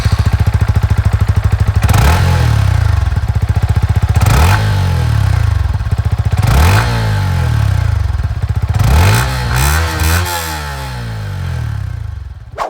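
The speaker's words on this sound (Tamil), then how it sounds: "சைலன்சர் நோட் வந்து கேளுங்க இப்ப" A Yamaha XSR 155 motorcycle engine revs hard four times, each burst climbing then falling back to a rough, loud idle, close by with no speech.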